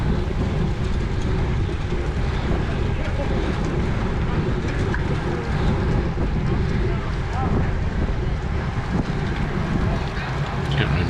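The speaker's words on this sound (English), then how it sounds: "Wind's still blowing kind of from the right" Wind gusts buffet the microphone of a cyclist in a Cat 4/5 road bike race of the Hincapie Spring Race Series, a steady, loud, broadband roar that fills the whole clip with no letup.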